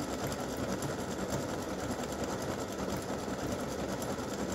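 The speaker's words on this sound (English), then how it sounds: "I'll go over to the machine while it's stitching" An embroidery machine stitching a breast cancer awareness ribbon gives a steady, fast mechanical whir and rattle, continuous and fairly faint, with no voices.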